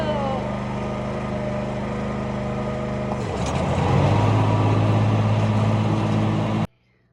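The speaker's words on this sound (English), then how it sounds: "I'm gonna go finish mowing the lawn." A lawn mower engine drones steadily at close range, then shifts to a deeper, heavier tone partway through before cutting off abruptly near the end.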